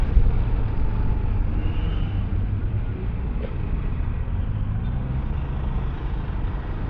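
Tricycle passing on a quiet road away from the city, a steady low engine rumble that holds for several seconds with no talk.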